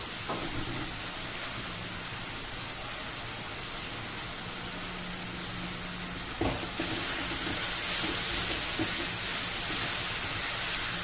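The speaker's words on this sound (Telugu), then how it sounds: "జీరా పౌడర్ ఇవన్నీ టమాటా ముక్కలు అన్నీ వేగుతాయండి వాటిలో" Tomato pieces fry with cumin powder in a pan for an okra tomato curry, giving a continuous, even sizzle like steady rain, close and unbroken throughout, with no talk.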